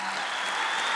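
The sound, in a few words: comedy show audience clapping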